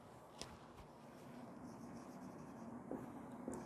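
Writing on a board, with faint scratching and tapping strokes at irregular intervals over a low, steady room background, quiet and without talk.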